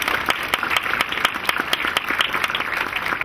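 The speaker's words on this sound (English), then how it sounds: "Big round of applause for them." Audience applause for the selection committee at a school Hall of Fame honors ceremony, many hands clapping steadily with a few sharp, distinct claps standing out near the microphone over a dense crowd wash.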